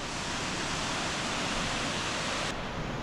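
Water thunders down the Fiji waterfall on Bali in an unbroken hissing roar, close and even throughout; the brightest upper edge of the rush drops away abruptly near the end, and no one speaks.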